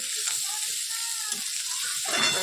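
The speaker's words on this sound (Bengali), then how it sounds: "ভালো করে একটু কষিয়ে নিই" Food sautéing in a pan gives a steady close hiss and sizzle throughout, with faint clinks and stirring under it, no voices.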